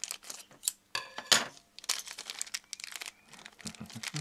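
Plastic blister packaging for a Cryx miniature model being opened, a string of close crinkling, crackling and snapping bursts of stiff plastic, irregular and busy, with no talking.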